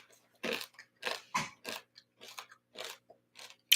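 Close, crisp chewing of crunchy home-cooked rice, with a run of about ten irregular crunching bites separated by brief silences.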